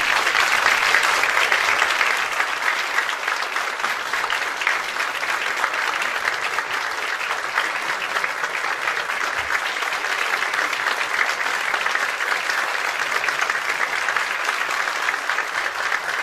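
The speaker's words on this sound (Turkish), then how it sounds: "Alkışlarınızla Doktor Kenan Sayacı." A university Turkish music ensemble's concert audience applauds at length to welcome the conductor, a sustained, even, dense roar of clapping from a large crowd lasting the whole stretch with no speech.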